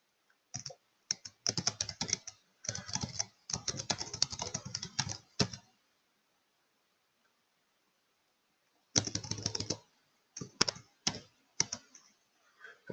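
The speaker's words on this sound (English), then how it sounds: "I was going to type this out after 9:30" Bursts of rapid typing on a computer keyboard, close and clear, in two stretches with a quiet pause of about three seconds between them and no voice.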